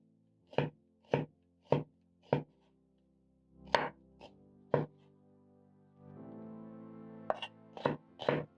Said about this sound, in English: I'm going to chop my onions in half, then I'm going to cut into half moons.